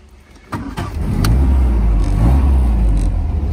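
A 1960 MGA 1600 sports car cranks and fires up after a brief quiet moment, then settles into a steady, close, loud idle with a low rumbling engine note.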